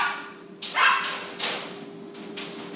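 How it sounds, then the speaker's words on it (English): A female dog barks indoors in short, fairly close yips and woofs, several in a row, over a steady background hum. "That is my dog, and she wants to get out"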